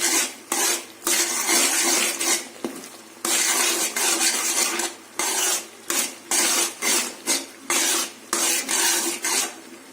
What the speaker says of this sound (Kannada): ಹಾಕ್ಕೊಂಡು ಮಿಕ್ಸ್ ಮಾಡ್ಕೊಳ್ಬೇಕು ಇದ್ರ ಜೊತೆಗೆ.